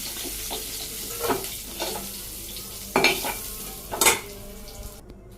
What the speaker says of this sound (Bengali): একটু পেঁয়াজ দিয়ে দিলাম মাছের মধ্যে মাছগুলো ভাজি হয়ে গেছে